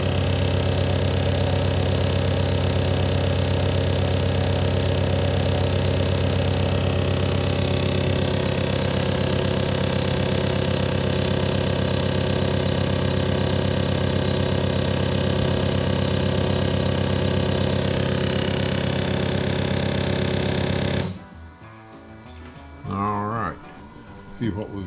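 A fuel injector test bench runs a steady 2000 RPM test with racing fuel injectors, a loud, constant mechanical drone with a fixed tone that stops abruptly near the end, leaving quiet room noise and a short voice.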